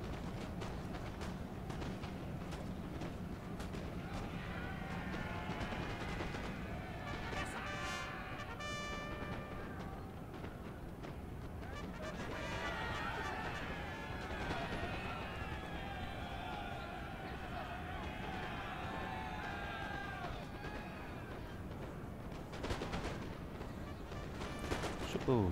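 Musket volleys and artillery fire in the Napoleon: Total War video game, a continuous crackle of distant gunfire and booms mixed with battle noise and someone talking over it.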